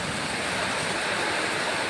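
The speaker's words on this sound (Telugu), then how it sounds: "చాలా ప్రమాదంగా వచ్చింది వర్షం. చాలా గట్టిగా అసలు ఎంత గాలి ఎంత వర్షం" Heavy rain with strong wind, a dense continuous roar of broadband noise, loud and unbroken, with no voices.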